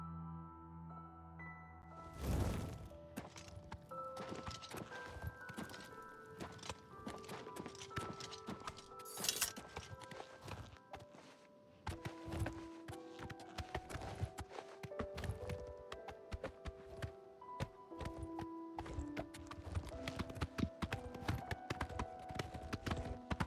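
Horse hooves clip-clopping in the fantasy role-playing game Oblivion Remastered as a companion's horse trots along, an irregular run of hoof strikes over game music and ambience, with a brief loud burst early on.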